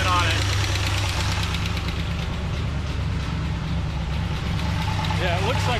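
427 Corvette big-block engine idling with a fast rhythmic ticking from its solid lifters, steady and close throughout, while people talk over it.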